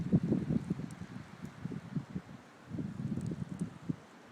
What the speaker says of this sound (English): Yeah, the wind's starting to pick back up.